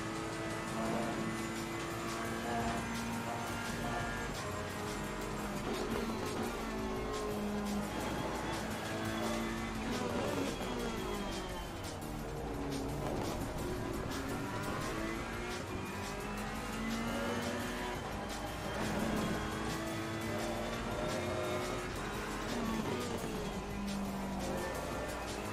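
A Ferrari race car in a racing video game drones and revs continuously, its engine pitch rising and falling through gear shifts and corners, loud and steady for the whole stretch.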